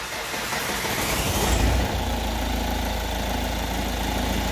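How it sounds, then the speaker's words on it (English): A vehicle with diesel particulate filter problems cranks and fires up partway through, then settles straight into a steady, loud idle heard close by. "Let me start the vehicle now."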